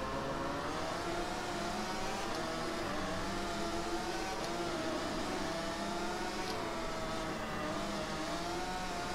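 Two Yamaha motorbikes and a Honda race in the video game MotoGP 15, their engines a steady high whine with shifting pitch, continuous and fairly quiet, with no talk.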